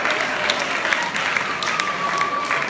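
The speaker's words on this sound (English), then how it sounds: "That deserves some applause." A crowd applauds steadily at a high school battle of the bands, dense clapping filling the room at a constant level, with a few louder claps and faint voices mixed in.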